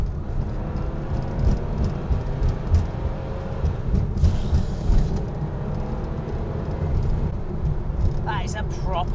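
A Porsche 964 Carrera RS engine drones loudly from inside the moving car, a dense low rumble with road noise that stays continuous throughout, with a voice speaking over it.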